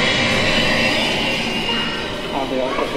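Jet engine ground start on an aircraft at the Yorkshire Air Museum, a loud, steady whine and roar that holds throughout, with a voice calling out under it.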